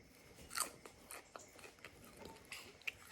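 Crunchy fried shrimp topped with salt are bitten and chewed, giving quiet, close crackling crunches in an irregular rhythm with a few sharper snaps.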